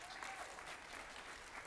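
A Baptist church congregation applauding together, a dense, continuous wash of many hands clapping at once, faint and distant throughout.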